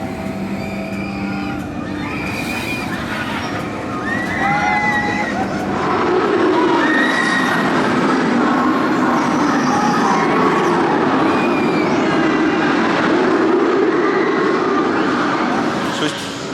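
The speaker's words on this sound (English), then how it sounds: "Taking our ride on the Smiler." Riding the Smiler roller coaster at Alton Towers gives a loud, continuous rumbling roar of the train on its track, growing heavier partway through, with crowd babble and voices mixed in.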